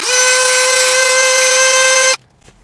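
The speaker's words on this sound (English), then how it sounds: "I kind of want to just dremel them down" A Dremel rotary tool whines loud and steady as it grinds down small steel skid plate pieces on a TRX4M scale crawler, holding one high pitch for about two seconds before cutting off abruptly.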